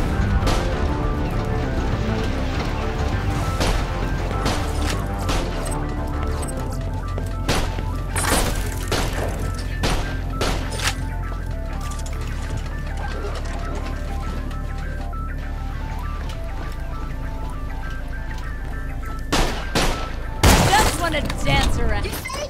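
Gunfire and explosions from Borderlands: The Pre-Sequel, with repeated sharp bursts and thuds over a steady, dense game mix, with a heavier cluster of blasts near the end and a voice talking over it.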